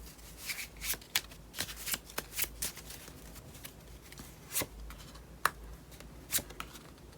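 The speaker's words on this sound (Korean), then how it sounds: "트럼프 카드로 뽑아볼게요." Playing cards are shuffled by hand for a tarot reading, a close series of crisp riffling flutters and soft slaps in an irregular rhythm with no voices.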